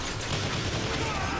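Rapid-fire weapon in Transformers: War for Cybertron, a loud, unbroken burst of fast automatic shots blurring into a dense mechanical roar, with a voice faintly mixed underneath.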